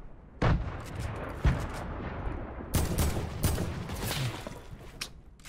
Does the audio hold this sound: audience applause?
no